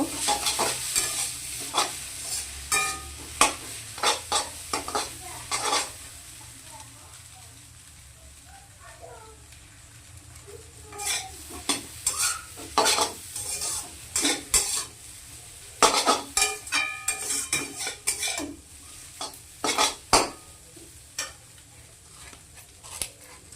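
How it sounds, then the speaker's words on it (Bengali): A spoon scrapes and clinks through chow mein in a pan as Maggi masala is mixed in. Quick bursts of stirring with a soft sizzle underneath come in clusters, and a voice speaks briefly in between. "ম্যাগি মশলা ভালো করে মশলার সঙ্গে মিশিয়ে নিব"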